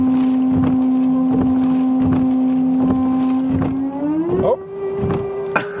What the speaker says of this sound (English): You can hear when the pump goes dry and when there's not any more to pump out.